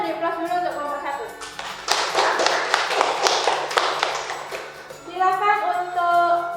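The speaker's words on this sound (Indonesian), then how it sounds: "Kita beri aplaus dulu untuk kelompok 1" A classroom group claps for about three seconds after a student group's presentation, a close burst of applause between stretches of someone talking.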